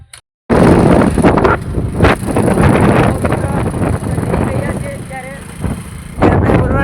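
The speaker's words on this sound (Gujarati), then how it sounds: "તમને પવનનો થોડીક અવાજ" Heavy wind buffeting the microphone, a loud continuous rumble with gusts, and a person talking intermittently underneath.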